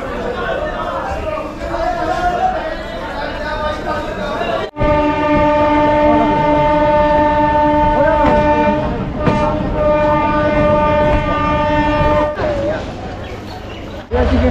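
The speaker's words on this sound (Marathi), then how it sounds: "ही लोकल आहे बनगावची." A Bangaon local train on the line from Sealdah: rumbling rail noise with a long, loud horn blast sustained for several seconds, then the steady clatter of the carriages and surrounding chatter.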